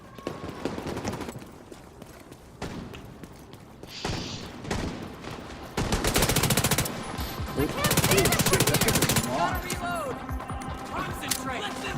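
Video game gunfire in a survival shooter, bursts of rapid automatic fire and single shots at varying loudness, with a louder sustained burst toward the middle, under occasional speech.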